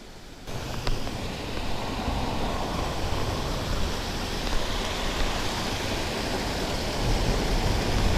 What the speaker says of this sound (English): Nice bit of running water.